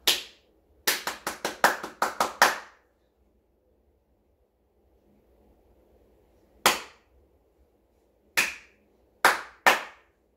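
Sharp hand claps in a rhythm call-and-response music lesson: a quick burst of about eight claps, a quiet pause, then a few scattered single claps, close and crisp with no talk.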